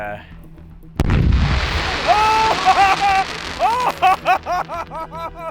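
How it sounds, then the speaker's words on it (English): A firework that fails to lift off explodes at ground level: a sharp blast bursts out, followed by a roar and a rapid series of crackling pops and whistling bangs that crowd together and fade. "That's what happens when a firework doesn't lift."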